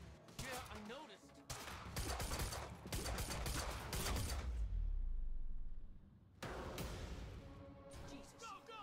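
Rapid automatic gunfire in the Quantum Break video game, sustained bursts with a low rumbling swell in the middle, a brief pause, then more shooting, with shouted voices mixed in.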